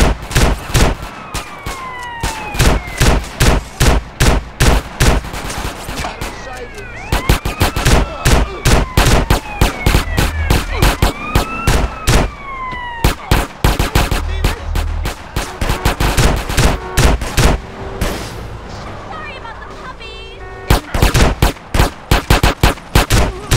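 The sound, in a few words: gunfire in video game GTA San Andreas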